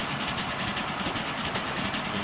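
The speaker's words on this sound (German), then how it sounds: "Über die Brücke fährt der Zug," A train rolls across a bridge in the railway game Transport Fever, a continuous loud rumbling roar with rhythmic clickety-clack of wheels on rails, close and unbroken, no voices.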